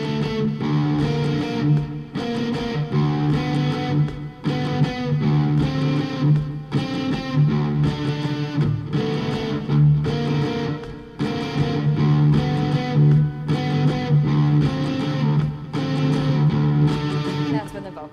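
Distorted electric guitar in DADGAD tuning plays the Led Zeppelin "Kashmir" riff, loud and close, with repeating rhythmic phrases and short gaps between them. No voices are heard.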